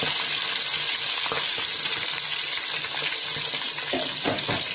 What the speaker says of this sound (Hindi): ये सब डाल के मैं इसको थोड़ा सा हल्का सा सौटे करके फिर इसी में मैं भिंडी डाल दी